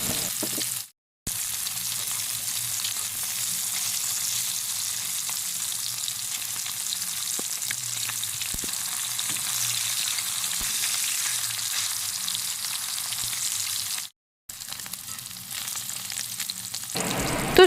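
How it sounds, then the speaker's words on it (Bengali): Pieces of silver carp sizzle and crackle steadily in hot oil in a pan while being turned to brown, a continuous close frying hiss interrupted by two brief silences. "তো এই তেলের মধ্যে উল্টে পাল্টে মাছগুলোকে লাল লাল করে ভেজে নেব।"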